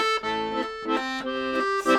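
An accordion plays a song as a single-note melody over sustained reedy chords, with a few distinct swelling phrases, close and clear with no voices.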